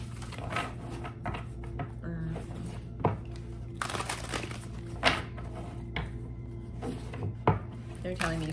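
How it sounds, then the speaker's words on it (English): Tarot cards being shuffled by hand, soft papery riffles and taps recurring in irregular bursts with a few sharper knocks, close up, while a person talks throughout. "They're telling me to keep shuffling."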